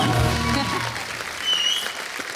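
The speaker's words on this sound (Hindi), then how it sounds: "जोरदार तालियां हमारे सारे कलाकारों के लिए।" Studio audience on a Hindi comedy talk show applauding the assembled singers, a brief burst of clapping that begins over a voice and music, then thins into scattered claps.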